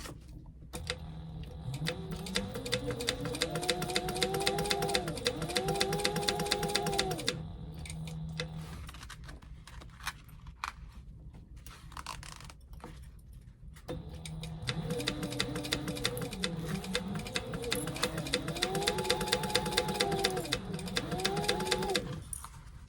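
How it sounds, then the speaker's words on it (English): Sewing machine stitching a convertible tote bag with an eighth-inch seam, running in two steady bursts of rapid mechanical chatter, each about seven seconds, separated by a quieter pause. "I'm going to stitch that down with 1/8 of an inch."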